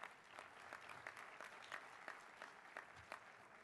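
A luncheon audience at a conference gives a round of applause for Mayor Carolyn Goodman, dense steady clapping heard from a short distance at moderate level with no voices over it.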